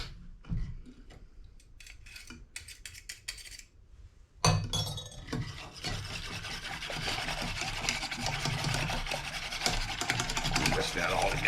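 Sweet and sour sauce made with ketchup, pineapple and orange juice is whisked in a bowl: light clinks and rubbing strokes at first, then a busy, continuous scraping whisk close by.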